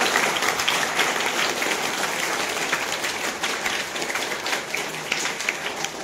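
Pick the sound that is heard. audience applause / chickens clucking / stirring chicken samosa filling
audience applause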